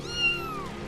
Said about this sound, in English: It's a kitten, dude.